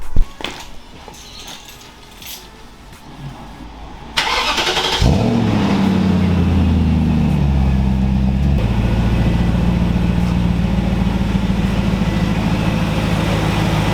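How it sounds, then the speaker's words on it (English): A car engine cold-starting on a freezing day after sitting unused for about two weeks: a brief crank catches into a loud, rough rev, then settles into a steady, close idle that holds to the end. "let's skip to the cold start because my car is freezing and it hasn't been used in about 2 weeks"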